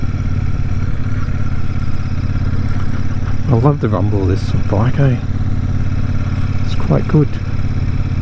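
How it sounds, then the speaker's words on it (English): Royal Enfield Super Meteor 650 motorcycle engine rumbling steadily at low revs, a deep continuous throb close by, while someone talks briefly over it. "I love the rumble of this bike, eh?"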